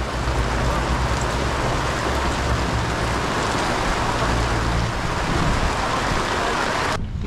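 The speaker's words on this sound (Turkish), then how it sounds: "Yağmur bayağı başladı." Steady heavy rain pours onto a tarpaulin shelter with dense broadband hiss and a low rumble, constant throughout and cutting off abruptly at the end.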